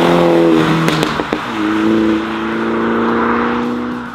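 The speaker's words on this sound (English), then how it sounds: "still having a nice loud, crisp, clear exhaust note" A MINI's sport exhaust burbles loudly, with a few sharp crackles early on before settling into a steady, droning idle note.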